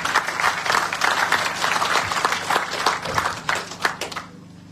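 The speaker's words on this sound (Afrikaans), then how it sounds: "Kom ons gee sommer vir hulle hande klap wat hulle hier is vandag." A crowd claps for children at the Day of the Vow commemoration at the Karel Landman Monument, a dense, lively outdoor round of applause with sharp individual claps standing out, tapering off near the end.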